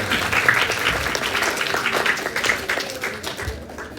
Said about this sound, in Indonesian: Tepuk tangan dulu dong biar ngadep.